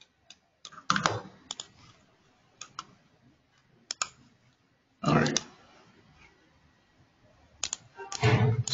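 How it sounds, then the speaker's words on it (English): Typing on a computer keyboard during a software demo, close plastic key clicks arriving in short irregular bursts separated by quiet pauses. "So go ahead and type in some messages."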